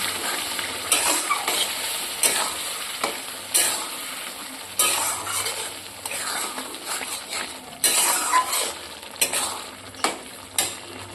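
Boiled bottle gourd and mung dal are sautéed with spices in a pan: a steady sizzle with regular spatula scrapes and light metal clinks, close and fairly loud.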